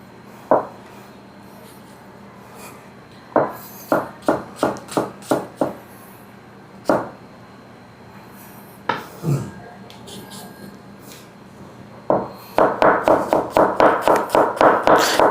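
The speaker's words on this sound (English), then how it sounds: "Start off by finely dicing your onions." A knife finely dicing onions for pyanggang, with scattered single taps on a board that give way to a fast, steady run of close chopping strokes at the end.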